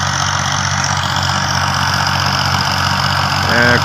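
Tractor engine steadily running a corn seeder planter through its PTO, driving a vacuum fan; a continuous, loud mechanical drone with an even idling rumble, close by and with no talk.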